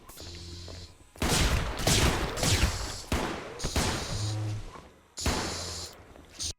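Rapid bursts of gunfire in the space station game Space Station 14 come in loud, dense volleys separated by brief pauses, with electronic game tones and beeps in between.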